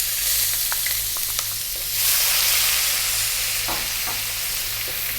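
A cup of onion dropped into hot oil for an Indian chicken curry crackles into a continuous sizzle, with a few light clicks and a brief swell of bubbling partway through.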